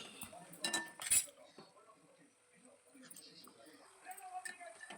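A spoon stirs small-fish curry in a pan over a medium gas flame, giving a few sharp metallic clinks early on, then softer scraping and stirring while a voice talks quietly underneath.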